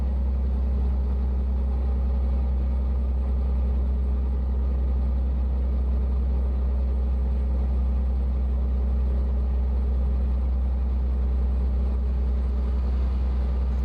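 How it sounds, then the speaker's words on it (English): Truck engine in American Truck Simulator droning at a steady idle, a constant deep low rumble with a faint hum above, unchanging and alone throughout. "So are you guys able to hear the engine a little bit better since I turned it up some"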